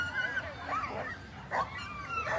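Several sled dogs at a sprint sled dog race in Anchorage yip and bark excitedly close by, with whimpering yelps in between and a busy outdoor crowd murmuring underneath.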